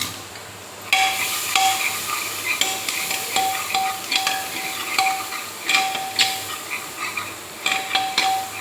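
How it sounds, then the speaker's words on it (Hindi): Vegetables and chopped onion tempered in a hot pan sizzle softly beneath repeated metallic clinks and scrapes of a spoon stirring against the pan. "सब्ज़ी मैंने छोंक दी है"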